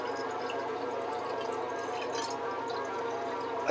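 Hydrogen peroxide pours from a bottle into a tub in a steady, faint liquid trickle with light splashing, continuous and close, with no voices.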